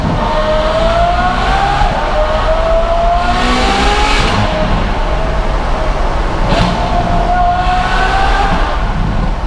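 A 2016 Ferrari F12 sports car revs hard through its exhaust, rising and falling in loud, close, high-pitched surges with brief gear-change breaks. No one speaks over it.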